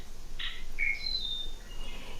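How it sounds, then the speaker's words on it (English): A blackbird call from a bird-call CD, made of two or three brief whistled chirps and trills, clear and close over faint background hiss. "A blackbird."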